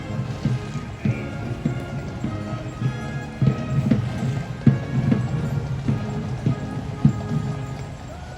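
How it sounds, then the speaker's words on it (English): Cavalry horses of the King's Mounted troop clip-clop on parade ground in pouring rain during a Trooping rehearsal, a steady rhythmic run of near hoofbeats over a constant wet background. "Looks like we might have a wayward horse over there"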